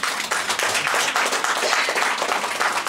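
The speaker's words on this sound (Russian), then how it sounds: "Отдельные аплодисменты ему, пожалуйста." A concert crowd at the Gnezdo Glukharya venue claps for the sound engineer, a dense, loud, continuous wash of applause that holds steady throughout.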